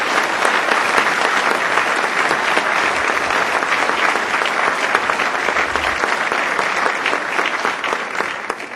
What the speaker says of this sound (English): The idea, give it an applause.